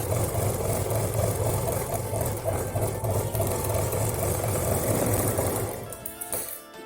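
A sewing machine runs steadily, stitching the lining cloth of a ladies' handbag, with a continuous loud mechanical whir that fades out near the end.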